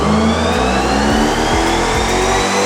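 A V8-swapped Lexus IS300 wagon with a manual gearbox revs hard on a dyno, its engine note climbing steadily and loud with stepped pulls, close and alone with no talking.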